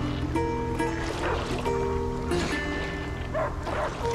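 Dog barking in A Plague Tale: Innocence, several short barks under gentle rippling water and ambient game sound, fairly distant.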